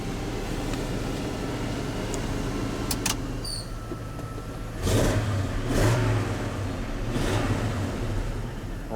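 A 1994 Chevrolet ramp truck (rollback toy hauler) with a 454 gas engine idles steadily, with a few swells of revving and some interior cab noise.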